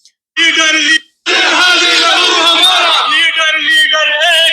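A large crowd chanting slogans for Imran Khan outside a jail, released prisoners shouting in loud unison, a brief pause after the first burst and then sustained, dense shouting close by.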